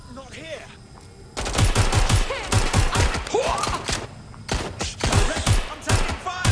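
Rapid gunfire in Watch Dogs Legion, close and loud bursts of automatic shots with sharp cracks and thuds, sustained for several seconds, with voices mixed in.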